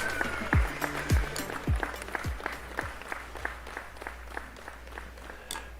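Hand claps from a sound effect played during a live painting session stream, sounding as a series of sharp rhythmic claps about every half second that fade gradually toward the end, with no talk.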